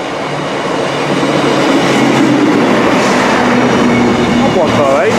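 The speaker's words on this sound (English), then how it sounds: "Train now approaching platform 2, 1600, Transport for Wales service to Holyhead via Chester" A Transport for Wales class 158 diesel unit bound for Holyhead via Chester pulls into a platform at Telford, with steady wheel rumble and clatter building and a brief squeal of brakes or wheels near the end.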